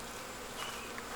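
Honeybees buzzing at a hive in a beekeeper's yard, a dense, steady hum of many insects heard up close for a brief moment with no talking.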